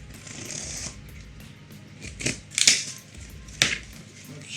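Scissors snip and rustle through a package's plastic and cardboard at close range, a few sharp crinkling cuts and handling noises against quiet room tone.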